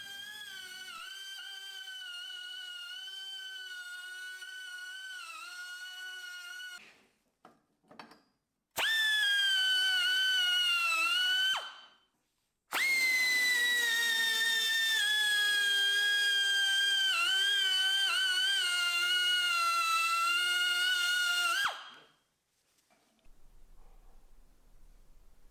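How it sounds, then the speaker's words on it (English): A handheld chamfering tool works the edges of laser-cut parts for a custom hydraulic shop press, giving a steady high, tonal whine in three separate runs with short silent gaps between them. "I also used this fancy new tool to chamfer the edges of the laser cut parts."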